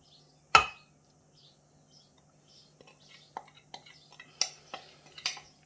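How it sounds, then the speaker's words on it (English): Ingredients for Korean spicy chicken stew stirred in a pot: a sharp clank, then a scattered run of light utensil scrapes and clinks against the pot, close and fairly quiet, with faint murmured voices. "So I mixed everything together."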